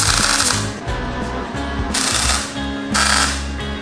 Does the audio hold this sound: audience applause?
no